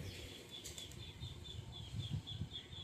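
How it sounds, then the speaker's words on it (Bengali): A pigeon released by hand flaps its wings in a fast, rhythmic flutter of soft beats, close and fairly quiet with no voices. "জাস্ট ডিমে আছে তাই ছেড়ে দিলাম পায়রাটা"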